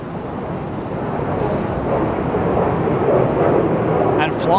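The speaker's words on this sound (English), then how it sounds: "You might be able to hear a bit of that in the background just now with a plane taking off overhead" A plane takes off overhead near an airport on Labuan, Malaysia, a broad roar that swells gradually beneath wind noise at the microphone.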